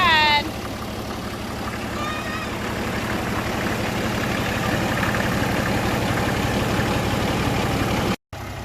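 A 1961 Case 930 diesel engine runs at a steady idle, a close, even low throb with a rapid pulse, a short whistle-like sound near the start, and no talk over it.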